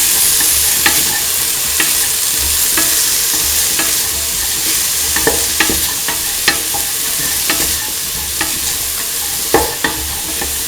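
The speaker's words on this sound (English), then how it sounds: "mix in the Gourd piece with the rest of the mixture." Ivy gourd pieces being stirred into a sizzling mung bean and coconut milk stew, with a spoon scraping the pan in irregular clicks over a constant close frying hiss.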